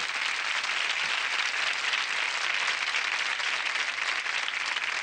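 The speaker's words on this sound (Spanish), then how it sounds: "Fuerte el aplauso para que le demos ánimo." Steady, dense studio audience applause on a Chilean television game show, loud and unbroken throughout with no voices over it.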